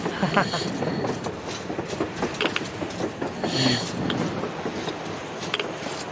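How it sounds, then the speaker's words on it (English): A train rolling along the surface in the video game Metro Exodus, a continuous rumbling rattle with clattering bursts, heard close and fairly loud alongside game voices. "A train! You know, a damn train on the surface!"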